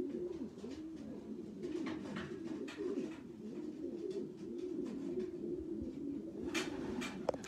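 Racing pigeons coo steadily at their loft, a continuous soft, rolling murmur of overlapping calls, with a few sharper chirps and flutters near the end and no one speaking.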